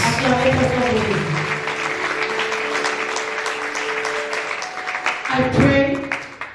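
Congregation in a church applauding for Jesus, a loud sustained wash of clapping from a crowd with a sung or spoken voice running over it, swelling again near the end.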